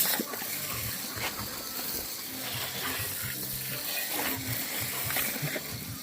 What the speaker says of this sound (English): We're gonna hose this thing down first